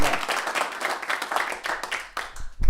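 Audience at a folk festival memorial tribute concert clapping in a moderate, steady burst of applause that thins toward the end.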